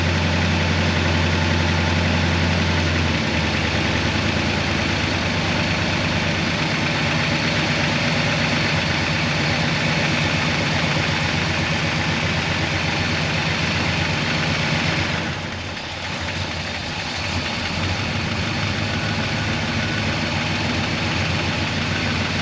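A 1966 Oldsmobile 442 V8 fitted with an Edelbrock carburetor idles at about 850 RPM, a close, loud and steady rumble with a slight dip partway through and no talking.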